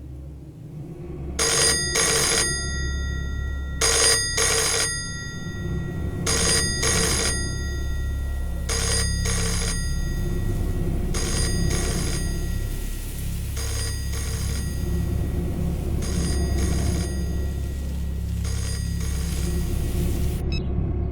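A telephone ringing out on a call to a police check post: repeated double bursts of a bright electronic ring, evenly spaced over about twenty seconds, with no answer, over a low steady rumble.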